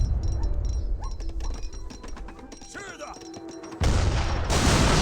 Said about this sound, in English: That is a lot of mortars.